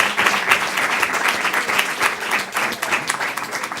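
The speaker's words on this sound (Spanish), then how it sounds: "Un aplauso de nuevo." A lecture audience applauds steadily with dense, even clapping throughout the short burst, filling the room without a break.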